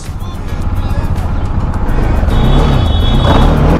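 A motorbike rides through the market in Koraput, Odisha, its engine a steady low rumble that grows slightly louder and fuller halfway through, with street noise mixed in.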